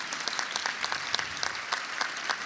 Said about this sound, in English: So you really ought to give a round of applause for your parents